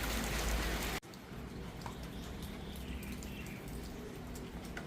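Steady rain pours outdoors during motorcycle muffler repacking, starting with a louder dense rush for about a second, then settling into a continuous even hiss of falling water with faint, scattered bird chirps above it.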